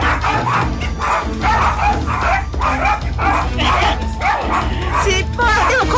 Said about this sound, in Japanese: もう吠えまくってます。